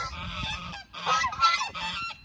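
Several domestic geese honk in repeated, overlapping bursts, loud and close, with brief pauses between calls and no talking.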